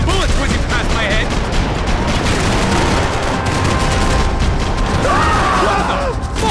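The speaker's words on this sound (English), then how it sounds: "Concentrate with bullets whizzing past my head!" Loud rapid gunfire and bursts of automatic weapons in Max Payne 3, with bullets whizzing past amid booming impacts, a dense continuous firefight with voice-like shouts briefly rising over it.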